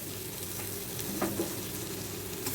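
Vegetables sautéing in a pan with scrambled egg, lightly salted, make a steady soft sizzle with a few gentle stirring scrapes near the middle, close and even throughout.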